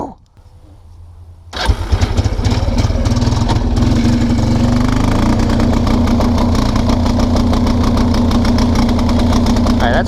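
A 1999 Kawasaki Prairie 300 ATV engine cranks, fires and runs, then holds a loud, steady near drone as a little throttle is added, the pitch rising slightly and staying even with no talking.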